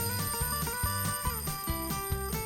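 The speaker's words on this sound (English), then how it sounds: "And that's how an alarm clock rings." A mechanical alarm clock bell rings continuously, its small hammer beating the bell cup very rapidly in a steady, loud metallic trill with no other sound.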